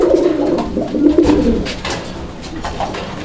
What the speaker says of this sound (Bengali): এটা হচ্ছে বোম্বাই কবুতর